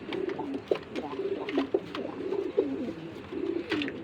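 Male racing pigeon cooing in a loft, repeated low throaty coos in a rough rhythm, fairly soft and close, with light rustling and chirps around it and no speech over it.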